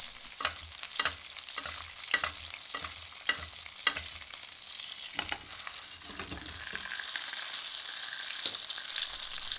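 Duck breast frying in a pan while hot oil is spooned over it, rhythmic spoon taps and splashes against a bright continuous sizzle that grows steadier toward the end, close with no voices.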